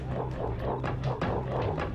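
A blind dog in the video game Oddworld: Abe's Oddysee whimpers and yips in short repeated bursts over a low electronic hum, fairly quiet and close.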